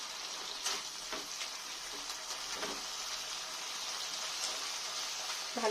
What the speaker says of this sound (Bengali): আর একটু ভালো করে নেড়ে নেব এর সঙ্গে।